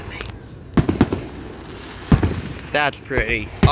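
Fourth of July fireworks bursting in the night sky, several sharp pops and crackles spread irregularly over a few seconds, with people exclaiming and talking close by between the blasts.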